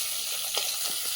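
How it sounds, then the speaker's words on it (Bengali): Fish frying in hot oil, a steady close hiss of sizzling with a few faint pops, brief and without talk. "মাছগুলো ভাজা হয়ে গেছে"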